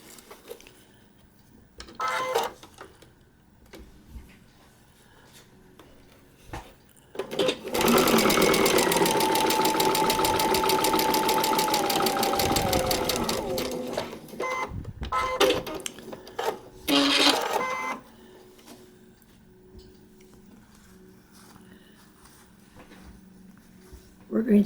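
A sewing machine runs in one steady, loud burst of stitching through a paper-pieced quilt block. Quieter handling noises come before it, a shorter run follows, and talking is heard in the gaps.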